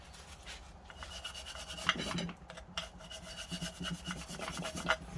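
Grease being wiped and scraped out of an electric unicycle motor cover, a close, quiet stretch of rubbing and scrubbing strokes in an uneven rhythm, with a few sharper scrapes and no talking.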